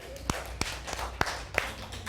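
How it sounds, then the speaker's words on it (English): Classroom listeners give a few sparse, scattered claps, four or five separate faint hand claps in a quiet room. "Clap for them."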